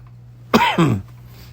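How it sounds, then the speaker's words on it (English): A single harsh cough, close and fairly loud, breaking a quiet background with a low steady hum. "every time I talk, I just start coughing."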